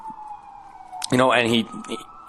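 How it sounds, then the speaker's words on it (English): Siren from an emergency vehicle in Calgary rises and falls in the background, with a nearer burst of talk over the wailing tone. "There's the Calgary Sirens in the background."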